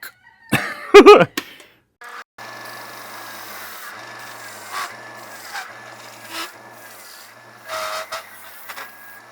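A running belt sander has its sanding belt cleaned with a rubber cleaning stick, giving a low motor hum with intermittent scraping and rubbing bursts, one harsh loud burst near the start.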